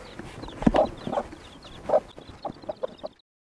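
Hens cluck in short, uneven bursts, several calls over a few seconds, fairly close, with no talking.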